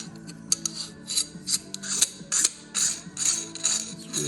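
A part is screwed by hand onto an AR-15 rifle, giving a series of quiet close ratcheting, rasping thread clicks in irregular bursts.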